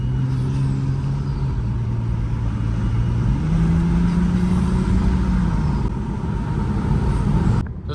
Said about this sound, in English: we're gonna see if I can get some turbo noises quick